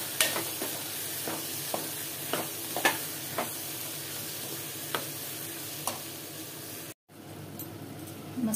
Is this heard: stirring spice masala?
yes